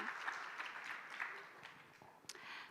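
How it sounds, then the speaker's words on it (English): Conference audience at the International Insurance Symposium 2025 applauds a speaker being welcomed, a brief, faint, steady patter of clapping. "A round of applause for her,"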